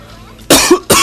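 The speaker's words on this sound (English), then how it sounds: "I'm coughing every 5 minutes" Two sharp, loud coughs from a person describing a bad cold with sore throat, the first a harsh burst and the second following quickly after a brief pause.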